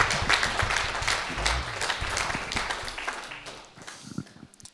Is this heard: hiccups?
no